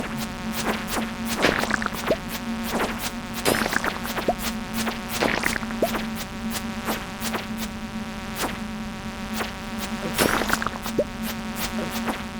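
Buzzing insect swarm in the video game Stardew Valley, with repeated short whooshing buzzes sweeping past over a steady droning game tone, fairly close and continuous with no talking.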